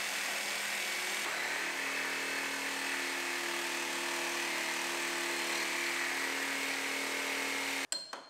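A power tool whines steadily and loudly, cutting away metal body panel from the cab of a 2018 GMC Sierra Denali pickup, a continuous close drone that stops abruptly near the end, followed by a few clanks.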